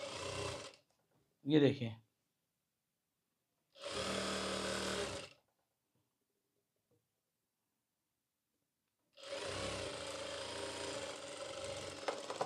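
A sewing machine stitches a ladies' pant in separate bursts of steady whirring, close and fairly loud, with long silent gaps between runs and a short spoken remark early on.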